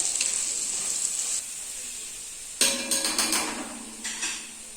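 Onions sautéing in a pan for a Kerala squid pepper fry, a steady sizzle that drops back before a louder burst of frying and stirring with a few scraping knocks.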